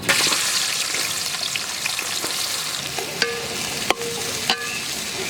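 Half a kilo of onions sizzling and crackling in hot oil for a Chettinad quail gravy, a continuous fry with a few sharp clanks of a spoon against the pan.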